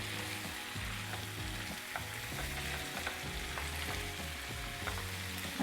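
Paneer frying in a pan for a restaurant-style paneer fry, with a steady close sizzle and repeated stirring scrapes and clinks running throughout, with no voices.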